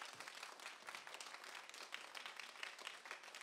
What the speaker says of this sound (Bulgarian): Аплодисменти за организатора и създателя на този фестивал.